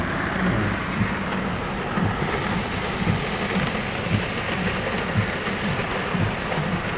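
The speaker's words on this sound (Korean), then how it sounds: "지금 아직도 밖에는 비가 많이 내리고 있어" Heavy rain falls outside at night in Seoul during a downpour warning, a dense, loud, constant hiss of rain on surfaces with low rumbling underneath and no voices.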